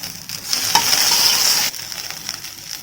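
Curry leaves drop into hot oil with cumin and green chili for a chutney, giving a sudden loud hissing sizzle that swells for about a second, then settles into a steady, softer frying crackle.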